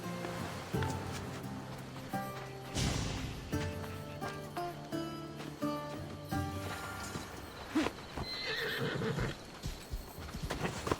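Horses in Assassin's Creed Odyssey clop along steadily with a loud neigh partway through, hoofbeats rhythmic and close under soft background music, no talking heard.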